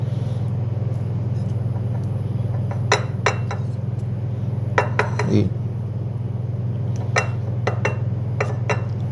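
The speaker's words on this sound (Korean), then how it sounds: "접시에 먼저 담고요" Turmeric rice being served onto a plate while making keema curry, with several light clinks and taps of a utensil against the dish over a steady low background hum.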